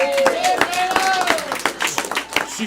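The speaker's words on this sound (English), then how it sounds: "Clap it up for Kayla." Audience members clap at a live-streamed variety show, with a run of evenly spaced claps carrying under a voice that talks over them.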